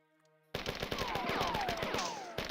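Rapid automatic gunfire from a machine gun in the 1994 first-person shooter Marathon, a dense rattling burst of shots with ricochet-like whines, loud and continuous after a quiet musical lead-in.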